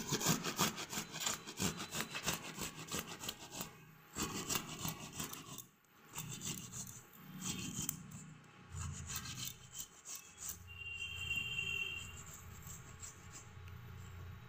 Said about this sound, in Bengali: আর হাফটা এই যে ঘষুনিতে ঘষে নিচ্ছি।